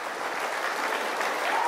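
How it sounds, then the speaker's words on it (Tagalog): A church congregation claps loudly and continuously, a dense, even roar of many hands sustained throughout. "Yung palakpak na parang ito na yung huling buhay nyo."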